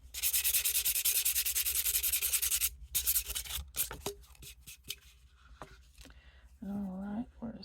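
Sandpaper scrubs a mixed media ornament in fast, loud, close strokes, then slows into scattered scrapes and rubs, with a voice heard near the end.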